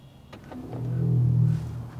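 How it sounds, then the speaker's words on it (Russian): A Mercedes-AMG EQS 53 electric car plays its locking sound through a built-in exterior speaker: a low, smooth synthetic hum that swells for about a second and then fades, heard alone and up close. "где-то здесь встроен динамик, и когда машина закрывается, она вот издает вот такой вот звук"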